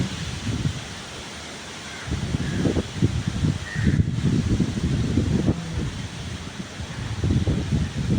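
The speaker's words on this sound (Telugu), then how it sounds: "చాలా గాలి వేస్తుంది" Gusty storm wind blows in uneven surges just after rain, rumbling low against the microphone with a steady hiss beneath, easing briefly before picking up again.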